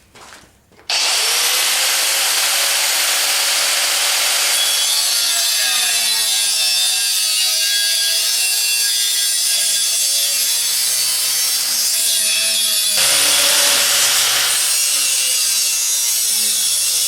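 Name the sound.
angle grinder with cut-off wheel cutting metal frame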